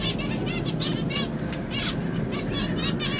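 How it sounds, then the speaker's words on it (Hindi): A colony of finches chirps steadily in an aviary where breeding pots hang, with many overlapping high calls at close range beneath a person speaking. "फिंच की कॉलोनी है आप देख सकते हैं।"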